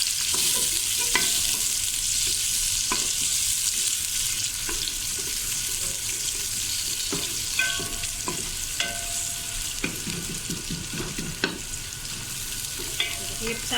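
Sliced onions sautéing in hot oil in a pot, a continuous close sizzle broken by repeated sharp stirring scrapes and clacks, with no talking.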